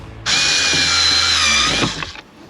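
A power drill whirs steadily for about two seconds while backing out the screws of a caravan roof vent, loud and close, then winds down and stops.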